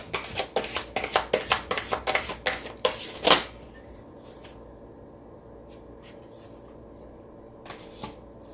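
Oracle cards are riffled and shuffled in a quick burst of crisp, papery flutters and slaps, ending in one firmer snap, followed by a near-silent stretch with a few faint soft card touches.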